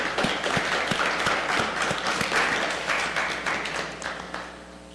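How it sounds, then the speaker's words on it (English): Applause for the vice mayor and council members at a council meeting: steady, dense clapping from a room full of people that carries on for about five seconds and tapers slightly toward the end. "give these two a round of applause, please"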